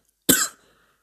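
A single short, sharp cough from a French-speaking person during a mobile game session, close to the microphone and over within a fraction of a second, with silence before and after.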